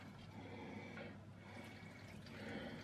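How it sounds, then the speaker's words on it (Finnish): Water poured from a tap into a pot of sausage borscht being cooked, a steady close splashing and filling sound running throughout with a faint hum beneath and no talk. "Sitten mä laitan sinne tässä vaiheessa jo ihan surutta vettäkin lisää."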